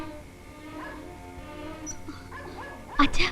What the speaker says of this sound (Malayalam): പട്ടി വല്ലാതെ കുരയ്ക്കുന്നു